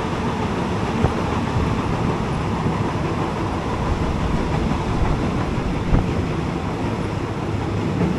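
Ordinary train 259 rolls toward Sala Thammasop station on the Taling Chan Junction to Salaya line, giving a steady, close rail rumble with light wind noise and a couple of faint knocks, with no talking.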